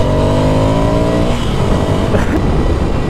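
A 2017 Ducati Scrambler Desert Sled motorcycle accelerates hard, its engine note rising steadily through the revs, loud and close, then breaking into rough wind and road roar.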